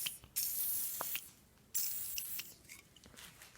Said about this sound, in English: if we keep spraying it with WD-40,